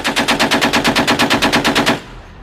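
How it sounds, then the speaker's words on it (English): An M250 belt-fed, recoil-operated, air-cooled machine gun firing a fast automatic burst of about fifteen evenly spaced loud shots, ending abruptly with a short echoing tail. "The M250 caliber machine gun is belt-fed, recoil-operated, and air-cooled."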